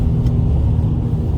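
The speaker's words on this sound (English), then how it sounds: "If you're wondering why the car is so loud, I was just checking." A 2021 Honda Pilot EX engine revving hard with the paddle shifter, a steady loud low rumble filling the cabin with no talk over it.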